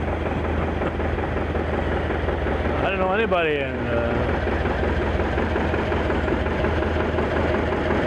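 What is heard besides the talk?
John Deere tractor engines in a parade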